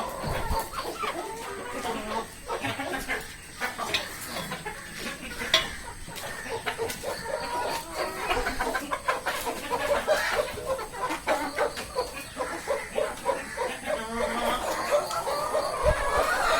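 Kappiri chickens cluck and murmur close by in a backyard flock, a busy, continuous mix of overlapping calls, with no talk.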